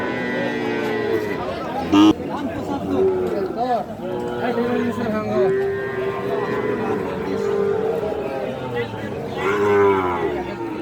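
Cattle at a busy livestock market, including Sahiwal bull calves, with mooing calls heard among constant crowd chatter and people talking nearby.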